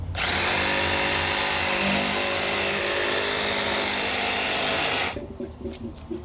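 A power tool cuts through pool filter plumbing pipe with a loud, sustained, harsh whine for about five seconds, close up, then stops and leaves quieter handling noises.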